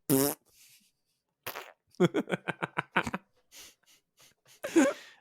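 A person imitates flatulence with the mouth on a tabletop card game podcast: a few separate sputtering raspberries, then a rapid rhythmic string of short bursts, and a final loud blast, all close and dry.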